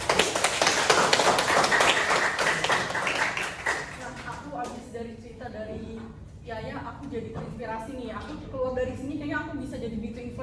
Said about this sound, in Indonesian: Ayo pada tepuk tangannya.